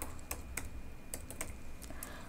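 Someone types CSS code on a computer keyboard, producing a scattered series of soft, close key clicks in an uneven rhythm over a quiet background hum, with no speech.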